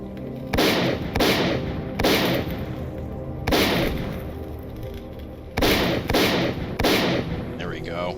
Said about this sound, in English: Shotguns and grenades, best way to deal with them.